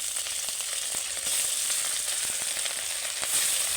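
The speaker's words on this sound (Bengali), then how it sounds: "আর একটু তেল দিয়ে মাছটা আমি বসিয়ে দেবো" Rohu fish fries in hot oil in a pan, giving a steady, close, loud sizzle with a faint crackle that runs unbroken and with no voices.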